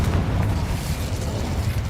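A fire spell cast in the video game Hogwarts Legacy, heard as a steady low booming roar that holds at an even, fairly loud level for about two seconds.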